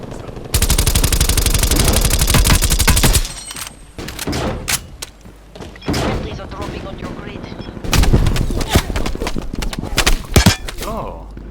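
Call of Duty Cold War gunfire opens with a loud, sustained burst of automatic fire lasting several seconds, then breaks into scattered single shots and shorter volleys at close range.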